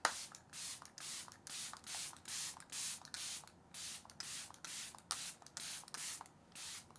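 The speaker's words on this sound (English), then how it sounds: "Let's use my Fenty Beauty You Mist Makeup Extending Spray." Fenty Beauty You Mist makeup setting spray misted onto a face in about a dozen short, rhythmic hissing bursts, close and clear with no talk.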